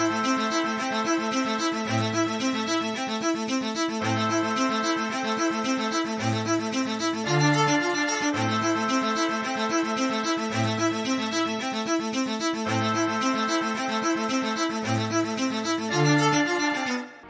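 A layered hip hop beat made in FL Studio, playing steadily, with deep bass notes, a repeating melodic pattern and crisp percussion stacked together at a full, even loudness.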